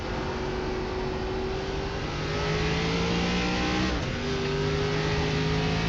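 A simulated ARCA stock car engine drones loudly and continuously on an out lap at Lime Rock in a racing video game. Its pitch climbs steadily through the gears, drops briefly at a shift, then rises again.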